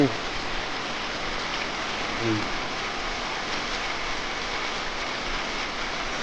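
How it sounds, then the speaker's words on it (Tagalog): Steady broadband hiss of rain falling somewhere in the Philippines, continuous and even throughout, with a brief low voice near the start. "Maulan ngayon dito sa Pilipinas."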